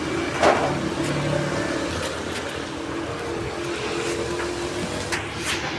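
A fire truck engine hums and rumbles steadily nearby, a low continuous drone that shifts slightly in pitch, with faint background noise.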